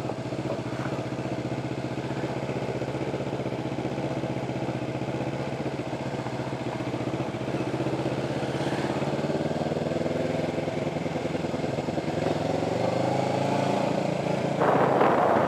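A motorbike engine runs steadily through an indoor shopping mall, a continuous mid-level drone with slight variation in pitch, close and unaccompanied by talk.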